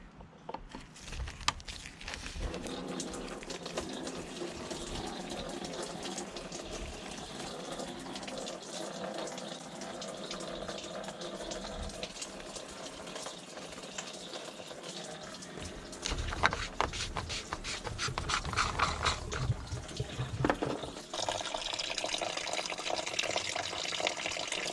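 Coolant drains from the radiator drain plug of a BMW E46 in a continuous liquid trickle lasting the whole stretch, quiet at first and then a little louder and splashier toward the end.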